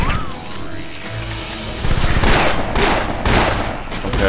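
Gunfire in the video game Afterfall InSanity: a loud, dense stretch of rapid shots and crashing impacts kicks in after a quieter opening with mechanical clicks and continues to the end.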